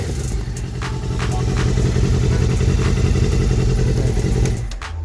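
A Yamaha FZR400 motorcycle engine runs loud and close with a rough, clattering idle for several seconds before abruptly cutting out near the end.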